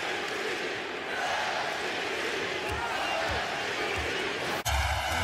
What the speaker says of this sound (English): And hearing the chants of MVP from the crowd.